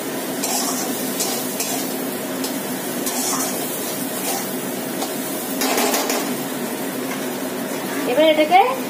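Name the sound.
potatoes frying in a pan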